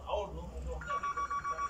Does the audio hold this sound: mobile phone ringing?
yes